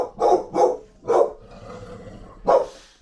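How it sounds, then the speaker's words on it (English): A dog barks and growls at someone: four sharp, loud barks close by, spaced unevenly, with a low rumbling growl in the pause between them. "That's the dog seeing somebody he doesn't like the look of."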